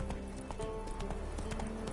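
Roach, a horse in The Witcher 3, running in a quick, even clip-clop of hooves, close and continuous, with no talk over it.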